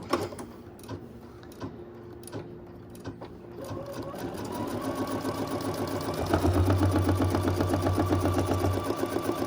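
An embroidery sewing machine stitches a vinyl needle organizer in the hoop, its rapid mechanical chatter building steadily louder and more rhythmic, close and continuous, with no talking.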